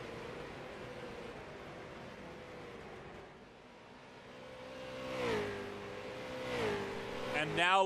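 Stock race cars circle Nashville Fairgrounds Speedway in a short-track race, engines droning and then swelling as cars roar past near the end, under continuous commentary.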